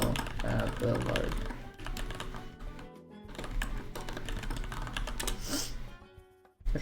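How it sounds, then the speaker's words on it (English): Rapid clicking of computer keyboard keys under a person's ongoing talk, steady throughout with brief pauses. "that was like a lot of typing"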